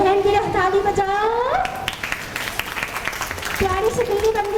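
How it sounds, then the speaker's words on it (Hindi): Children in a Montessori classroom clap for a classmate, a scattered patter of small-hand applause that follows a sung or drawn-out adult voice, with talking resuming over the clapping toward the end. "बहन की ताली बजाओ"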